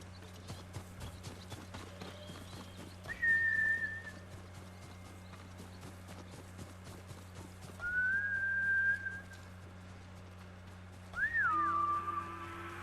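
Galloping horse hooves in the video game Ghost of Tsushima, with a rapid clip-clop rhythm running throughout and three louder whistling or whinny-like calls rising over it.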